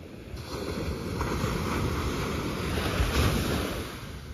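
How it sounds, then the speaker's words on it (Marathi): Sea waves wash in at a Kerala beach, a broad rolling roar swelling and easing with some wind buffeting the microphone, with no talk over it. "बापरे, समुद्राचा आवाज भरपूर येत आहे"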